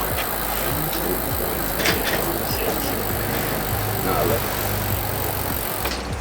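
A 12-speed road bike with a derailleur has its gears run through, giving light mechanical clicks and rattling over a steady background hum, with a voice speaking briefly.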